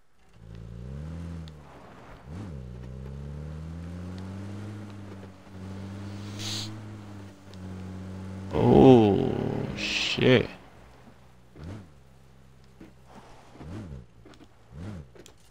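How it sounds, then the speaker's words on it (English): A jeep driving nearby in the video game PUBG, its engine droning with rising and falling pitch as it accelerates, loud in the middle, with people talking over it. "Oh, I hear Jeep. Car, that's a car."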